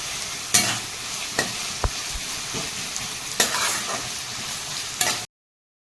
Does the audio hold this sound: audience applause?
no